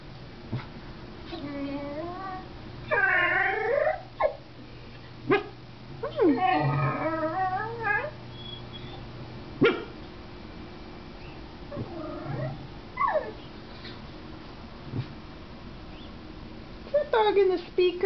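A corgi-like dog's barks and whimpers come through a computer speaker in short bursts, scattered across the clip between pauses, while a person talks nearby.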